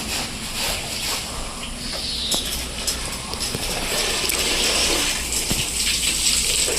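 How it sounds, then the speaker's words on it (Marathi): Water bubbling and gushing steadily at a natural hot spring pool beside a temple, a continuous close, moderately loud wash with small splashes and no talking. "बुडबुडे येत आहेत बघ कसे ते."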